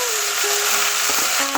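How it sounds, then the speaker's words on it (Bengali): Cabbage frying in a pan with hilsa fish head in a Bengali-style home kitchen, giving a steady, close sizzle with a broad hiss and faint scraping as it is stirred. No one speaks. "এবার এটা দিয়ে একটু ভালো করে নেড়ে নেব।"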